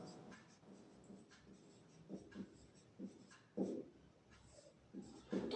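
A pen scratches across paper during a class 8 maths lesson on 3D shapes, a quiet series of short strokes in an irregular rhythm, close and faint, with no speech over it.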